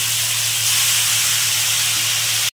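Ginger and green chili paste sizzling in a hot pan over cumin and coriander, a bright, steady hiss heard close with a low hum beneath, ending abruptly after a couple of seconds.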